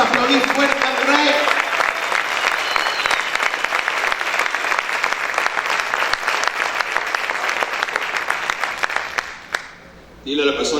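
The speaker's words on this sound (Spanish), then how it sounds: "Vamos a aplaudir fuerte al Rey." A church congregation claps loudly and continuously with crowd noise and a few vocal sounds mixed in, before the applause drops away near the end and a voice begins.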